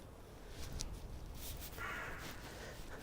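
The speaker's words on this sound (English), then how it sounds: "The crows are loud." Crows cawing outdoors beside a garden off Canongate on Edinburgh's Royal Mile, a few harsh calls standing out at moderate distance over steady background hum.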